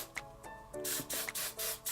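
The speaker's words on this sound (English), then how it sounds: "what I do is just get some hairspray" Hairspray from an aerosol can, sprayed in several short hissing bursts close up, the quick sprays separated by brief pauses.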